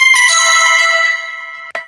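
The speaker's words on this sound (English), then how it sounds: "That's my alarm." A phone alarm rings with a bright, bell-like ringtone chime that sustains and fades over under two seconds, ending with a brief click, loud and alone.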